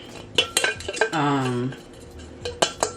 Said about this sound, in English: try not to get hit with dishes that are coming down from the cabinet